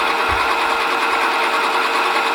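A sewing machine fitted with a rolled hem foot stitches a hem in a steady, even run, its motor whirring continuously and close by with no pauses.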